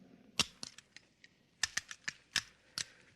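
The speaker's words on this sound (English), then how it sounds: "Now, let's see you put back the firing pin." Firing pin being fitted back into a pistol, a run of sharp metallic clicks and snaps, close and crisp, in irregular bursts with short gaps, no voices over them.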